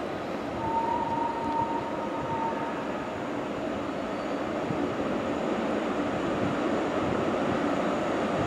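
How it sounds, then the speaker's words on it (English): Freight train rolling through Stafford station, a steady loud rumble of wagons and wheels on rails that holds for the whole stretch, with a brief high squeal early on. "Here comes a freight train that's about to pass through Stafford."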